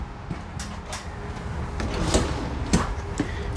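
A soft-closing cabinet drawer in the kitchen of a Jayco Pinnacle 38FBRK luxury fifth-wheel trailer slides shut, giving a few muted close-range thumps and a gentle sliding rumble, with no talk.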